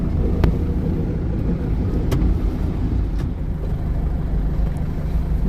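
Heavy highway traffic on the approach to Mumbai, heard from inside a car: a steady low engine and road rumble with a few brief passing hisses, continuous and fairly loud throughout.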